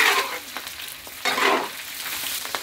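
Pork stir-fried in its own rendered fat in a wok, making loud sizzles that rise and fall as it is tossed and stirred, alone with no talk.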